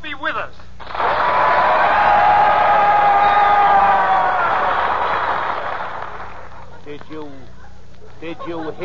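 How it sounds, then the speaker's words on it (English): Studio audience on a radio comedy show breaks into a loud, sustained wash of applause and cheering lasting several seconds, fading slightly before a voice returns. "They always applaud when they hear my name"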